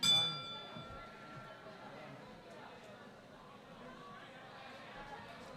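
A boxing ring bell clangs at the start of the last round of a women's bout between Meredy Michael of Malaysia and Aisah Alico of the Philippines, one bright ring fading under crowd noise and commentary.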